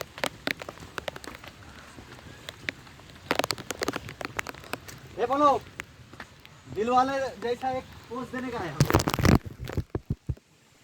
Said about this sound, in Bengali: বৃষ্টি হচ্ছে বন্ধুখান